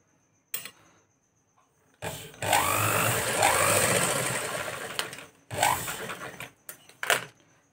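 A sewing machine runs in two steady stitching bursts as it sews tucks into fabric, loud and close, with short clicks and handling knocks in between and no voices.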